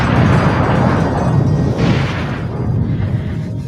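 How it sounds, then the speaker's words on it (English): Loud, rumbling explosions roar continuously, with deep booming and dense noise throughout. "One day, I hear big explosions."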